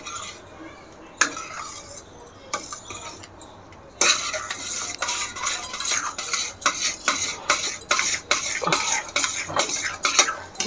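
Coconut barfi mixture being stirred in a pan, with a spoon scraping and clinking against the metal in quick, irregular strokes. The strokes are sparse at first, then grow denser and louder, heard up close with no talking.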